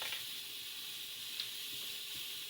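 Mushrooms searing in a hot pan give off a soft, even sizzle, a continuous hiss with faint crackles and no voices.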